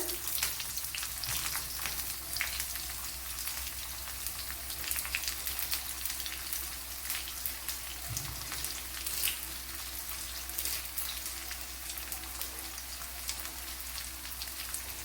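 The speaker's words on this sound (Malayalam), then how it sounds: "ഇവിടെ ശകലം വെളിച്ചെണ്ണ ഒഴിച്ചു കൊടുത്തിട്ടുണ്ട്, അതിൽ കടുക് ഇട്ട് കൊടുത്തിട്ടുണ്ട്. ഞാൻ കൊച്ചുള്ളി ഇട്ട് കൊടുക്കാം." Mustard seeds and small shallots frying in coconut oil, producing a steady, dense crackling sizzle like rain on a surface that continues evenly throughout, with no speech.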